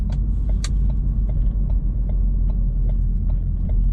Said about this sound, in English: it has a very smooth ride